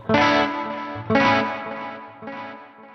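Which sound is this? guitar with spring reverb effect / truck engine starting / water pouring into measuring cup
guitar with spring reverb effect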